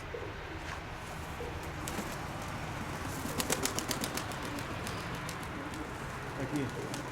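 Kept pigeons coo softly amid faint, fluttering wingbeats, with a brief cluster of flapping midway, all low and slightly muffled under muffled voices and background noise.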